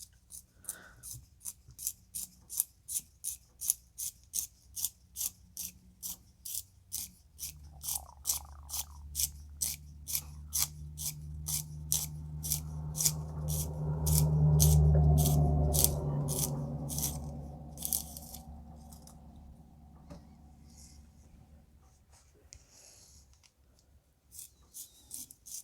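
Handheld sharpener shaving a red cedar pencil, a close run of quick rhythmic rasping strokes that swell into a louder grinding stretch midway, then taper back to lighter scraping.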